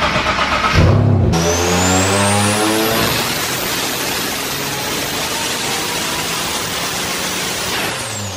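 A turbocharged Nissan 370Z on a dyno, its engine note climbing in a loud close rev before settling into a sustained roaring, broadband drone that holds steady for several seconds.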